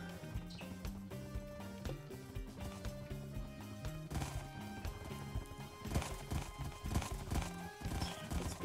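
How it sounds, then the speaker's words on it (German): A horse gallops in a Minecraft party minigame, its hooves clip-clopping in a quick steady rhythm under busy game music. "Lauf, Pferdchen, lauf, lauf."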